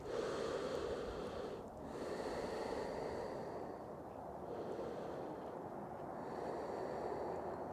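Slow, steady resting breaths during a Hatha yoga session, a soft continuous airy hush with a brief pause between exhales, close and quiet, no talking.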